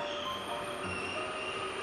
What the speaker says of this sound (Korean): 오늘 교통수단은 용산에서 춘천까지 운행하는 ITX 청춘열차야.